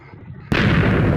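A Minecraft explosion bursts in abruptly after a quiet moment, a loud, broad blast that stays dense and rumbling to the end of the clip.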